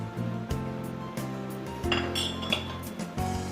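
Ingredients for parupu podi tipped into a metal pan for dry roasting, with repeated clinks and knocks of a spoon against the pan at a steady, uneven rhythm, close by, over a faint hum.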